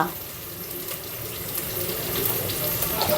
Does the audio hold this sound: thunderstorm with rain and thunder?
no